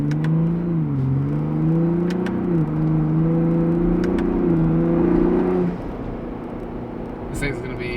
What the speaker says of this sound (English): So now we're just gonna do a little bit of in-town driving to see how it behaves just in town normal.